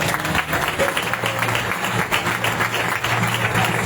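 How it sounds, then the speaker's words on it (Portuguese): A church congregation applauds during a religious congress service, dense continuous clapping that fills the room at a steady, loud level throughout. "Você pode aplaudir o nome do Senhor?"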